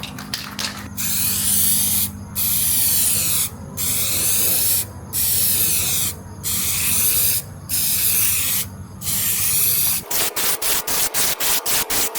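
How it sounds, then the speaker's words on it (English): Spray can laying a thick final clear coat on a Honda K24 valve cover: about seven steady hissing passes of roughly a second each with short gaps, close and loud, then a quick run of short spurts at the end. "for the final coat of the clear coat, you want to go a little bit thicker and we move a little bit slower"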